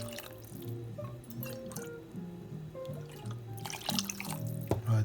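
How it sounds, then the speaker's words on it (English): Water running and dripping into a cooking pan while salmon risotto is being made, a steady trickle with drips over a busy kitchen background, faint and continuous throughout. "and now we'll add"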